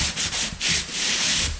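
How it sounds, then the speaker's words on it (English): 120-grit sandpaper rubs back and forth over wall compound on a hard surface in several rhythmic, close, raspy strokes. "with the sanding, I'm not really sanding this all the way down"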